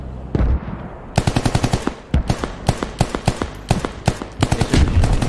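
Rapid automatic gunfire in a tactical squad shooter game, bursts of loud close shots in uneven rhythm with brief pauses, continuing steadily to the end.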